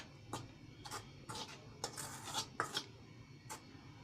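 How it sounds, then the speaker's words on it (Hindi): Dry ingredients for methi paratha dough, flour with gram flour, are mixed by hand in a bowl, giving soft, irregular rustling bursts close by in an otherwise quiet room. "एक बार सारी ड्राई सामग्री को एक बार अच्छे से मिला लें।"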